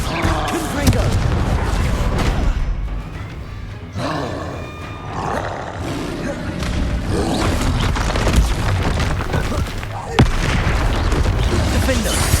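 Confringo spell blasts in Hogwarts Legacy: loud booming explosions and roaring impacts sound in repeated bursts amid chaotic combat noise, with voices shouting throughout.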